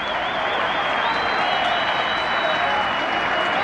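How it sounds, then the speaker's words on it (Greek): Basketball fans in the stands at Alcazar arena in Larissa applaud steadily during an AEL home playoff game against Panathinaikos, a dense, continuous wash of clapping with faint crowd noise and a thin high tone running through it. "κερδίζει και το χειροκρότημα των Λαρισαίων που βρίσκονται στις εξέδρες του Αλκαζάρ"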